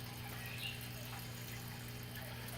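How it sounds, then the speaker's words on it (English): An aquaponics system pumps water back up to a fish tank: a faint, steady pump hum sits under a soft trickle of flowing water, quiet and continuous, with no talking. "that water gets pumped back up to the fish over there"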